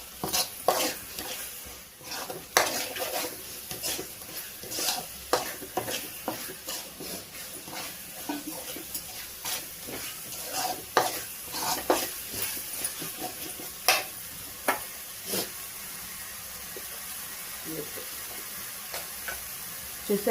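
Chili powder and turmeric fry in a pan for an Andhra-style chicken curry, making a soft, fairly quiet sizzle broken by frequent light scraping taps of stirring, with no voices.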